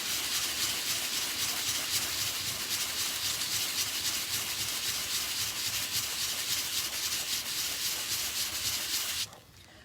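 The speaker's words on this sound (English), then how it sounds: "we're going to take our little block, put it on, this is 220 sandpaper" Sandpaper of 220 grit on a hand block rubs back and forth over cured resin in steady, close scratchy strokes, then stops abruptly just before the end.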